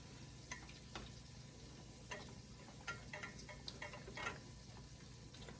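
Butter bubbling and starting to brown in a pan over medium-high heat, a faint, quiet sizzle with scattered soft pops and ticks spread through the stretch, no talking.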